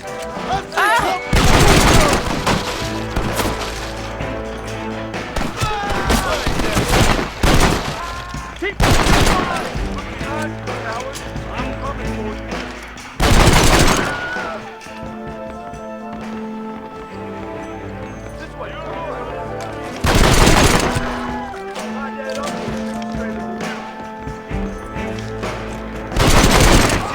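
Red Dead Redemption gameplay gunfire: several loud bursts of rapid shots and fusillades spaced through the stretch, with hoofbeats, game music and effects in between, and a voice talking at points.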